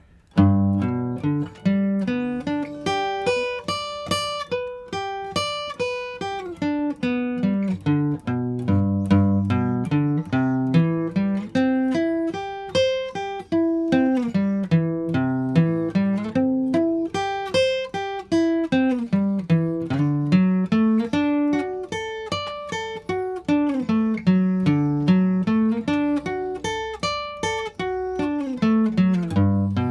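A guitar plays a fretboard warm-up exercise, a steady stream of single picked notes climbing and descending in repeating arched runs for the whole stretch, clear and close with no talking.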